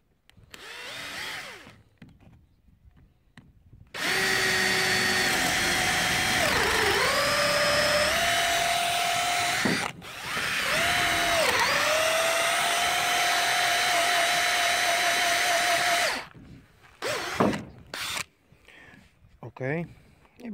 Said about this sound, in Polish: Zaczynam od nawiercenia pierwszej łaty na samym początku.